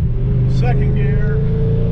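A 2010 Chevrolet Camaro SS fitted with a Kenne Bell 3.6L supercharger accelerates hard in fourth gear, a loud, heavy engine drone from inside the car with a brief tonal whine rising over it.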